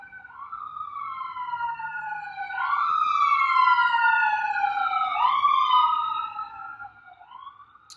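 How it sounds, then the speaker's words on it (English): Wailing sirens sweep up and down continuously, several overlapping, swelling louder in the middle and fading slightly toward the end. "As the sirens go."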